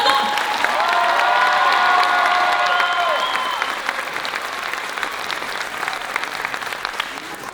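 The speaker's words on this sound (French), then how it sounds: "Un peu d'applaudissements pour Dana." An audience applauds and cheers for Dana at a festive show with a monitors' choreography, loud dense clapping with a sustained shout or whistle over the first few seconds, then continuing applause alone.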